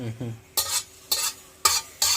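Tempering spices sizzle in oil in a home kitchen, with four short, loud bursts of sizzling and stirring in a quick, uneven rhythm, close up and with no talk.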